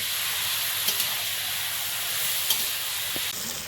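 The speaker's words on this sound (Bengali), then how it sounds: "মাংসটাকে ভালো করে কষিয়ে নিতে হবে" Mutton sautés with Kashmiri chilli powder and pepper in a pan, giving a soft, continuous sizzle and hiss with a few faint scraping stirs and light clinks.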